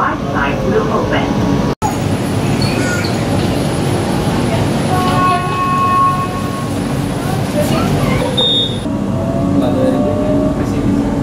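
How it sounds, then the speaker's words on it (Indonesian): Steady rumble of an LRT Jakarta light rail train running, heard from inside the car, a continuous loud hum and rail noise with faint tonal whines and a brief dropout. "saya berada di dalam rangkaian LRT Jakarta"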